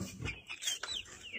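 Chickens clucking in a Russian village yard, a few short close clucks and chirpy calls in quick succession, fairly faint.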